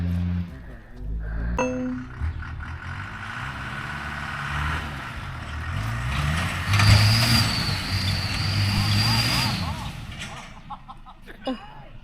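A Land Rover engine labours up a steep slope during a winch competition, a steady mid-distance growl that swells and strains with clanks and a high whine, while people talk over it.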